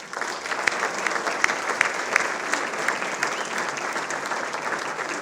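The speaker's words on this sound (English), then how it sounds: "please join me one more round of applause for our Roaring 10 honorees." Sustained applause from an award ceremony audience honoring Roaring 10 award recipients, a dense steady wash of many hands clapping with a few sharper claps standing out, filling the room without speech.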